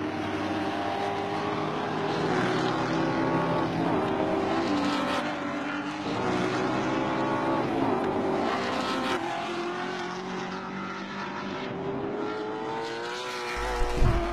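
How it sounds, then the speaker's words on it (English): Race cars at Bathurst in 1978, including a Toyota Celica, roar past on the circuit, engines droning and rising in pitch as they charge by, heard from trackside in a continuous loud wash with a bump at the end. "charging down Conrod is Peter Williamson and the Celica"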